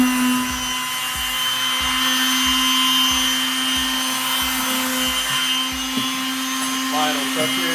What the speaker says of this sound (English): doing a little sanding